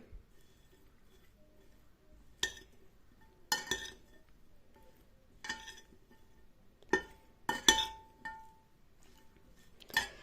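Marinated pork ears being mixed in a bowl, with intermittent clinks and scrapes of utensil against dish, scattered irregularly in short bursts over a quiet background.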